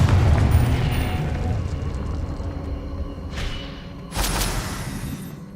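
A Confringo blasting curse goes off in Hogwarts Legacy, a short bright burst near the end followed by a louder rumbling boom that rises over a steady low game soundscape.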